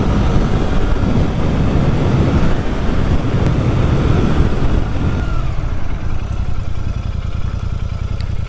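A Royal Enfield motorcycle, Shotgun 650 or Hunter 350, accelerating hard from a standstill against the wind, its engine droning loud and steady under heavy wind buffeting on the microphone, tapering off toward the end.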